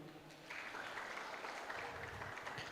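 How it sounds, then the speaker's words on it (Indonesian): Applause from students and guests at a farewell ceremony for SMK Negeri 1 Marangkayu, a steady patter of many hands clapping that swells after a brief moment and carries on, fairly faint and distant. "Boleh tepuk tangan dulu?"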